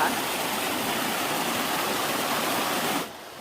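A steady, full rush of flowing mountain stream water on the trail to Tat Moei Waterfall, Khun Tan, close and loud, that drops off abruptly near the end.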